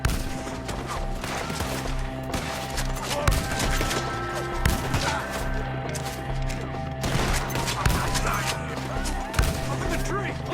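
Red Dead Redemption 2 gunfire during a mission shootout, with repeated sharp shots and volleys scattered over a steady background of game sound, fairly loud and near throughout.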